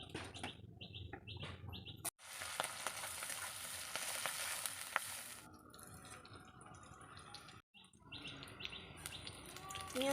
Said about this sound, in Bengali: মাছের তেল ঝালটা করার জন্য প্রথমে পেঁয়াজ ছাইটা ভেজে নেব